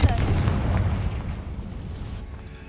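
A Confringo spell blast in the Hogwarts Legacy game bursts with a loud, sharp boom at the start, then rolls into a deep rumbling decay that fades over a couple of seconds.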